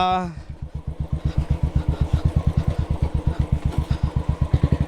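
An off-road vehicle's engine chugs in a fast, regular pulsing rhythm, loud and close, as it is driven down a steep slope on a heavy off-road trail near Madikeri.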